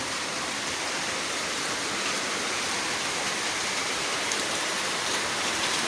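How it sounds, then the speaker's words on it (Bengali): Steady rain pouring outdoors over waterlogged farm fields, a dense, even hiss of drops hitting water and ground, continuous and fairly loud with no voices. "বৃষ্টি হচ্ছে"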